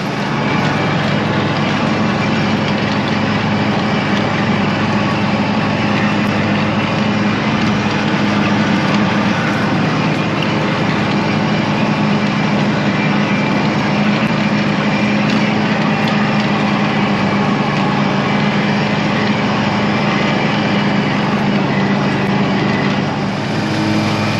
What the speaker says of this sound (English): Right, time to get some mowing done.